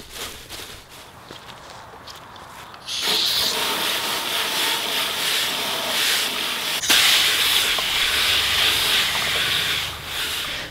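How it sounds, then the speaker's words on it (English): Lemongrass leaves rinsed in a big bowl under running water, a steady splashing hiss that starts abruptly after a quieter moment, with light rustling of leaves. "So in a big bowl, we are going to place the leaves in and give it a really good rinse"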